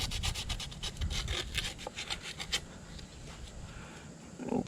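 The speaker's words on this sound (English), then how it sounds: "I'm sanding this really good." Rapid rhythmic scraping strokes of sandpaper rubbing against a metal spigot bearing part, close up, slowing to softer rubbing toward the end.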